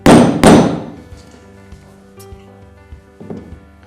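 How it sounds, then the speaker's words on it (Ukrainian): A hammer strikes the central screw of Felco 200 pruning shears: two loud, close thunks in quick succession leave a metallic ring, then a third, softer knock follows a few seconds later. "декілька разів потрібно вдарити по центральному гвинту"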